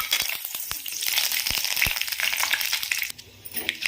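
Dried red chilli and curry leaves fry in hot oil for a tempering, a steady close crackling sizzle with sharp pops and spits that eases near the end.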